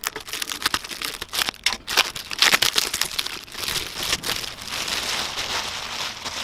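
A razor blade slices through plastic wrapping and cardboard packaging on a crated Ricoma MT-1501 embroidery machine. The plastic crinkles and crackles up close, with sharp tearing rips and cuts in irregular bursts, then gives way to steadier rustling.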